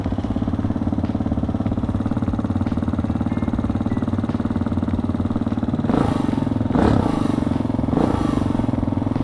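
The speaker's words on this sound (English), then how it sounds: "All right, here's the startup." A 2020 Hawk 250 Enduro motorcycle's single-cylinder engine idles steadily and close by with a low, even chug, with a few brief revs or clattery bursts near the end.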